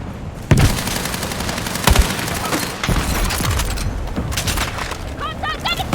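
Gunfire in the REDSEC battle royale video game: loud rapid bursts and sharp booming shots over a dense, continuous din of distant firing, with voices calling out between the shots.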